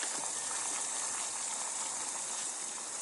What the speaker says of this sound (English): And I think that's the sound of a rolling boil.